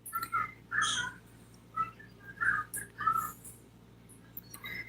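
Loud, shrill green-cheeked conure calls burst out in short chirps and squawks, several in quick succession with brief pauses, against a quiet background hum.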